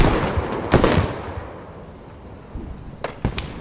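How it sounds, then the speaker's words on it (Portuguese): A thrown grenade bursts with a sharp, loud crack and rumbling tail, followed moments later by a couple more close, snapping blasts like gunfire against a quieter outdoor backdrop. "Correu. Jogar granada lá."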